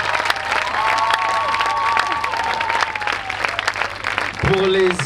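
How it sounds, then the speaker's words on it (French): A crowd at an evangelistic campaign gathering applauds loudly, dense sustained clapping with a voice speaking and a tonal sound over it, ending in a brief low hum. "On applaudit très fort."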